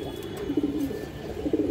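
Several pigeons, mostly females, coo in low rolling calls, close and fairly loud, with repeated swells of cooing overlapping throughout.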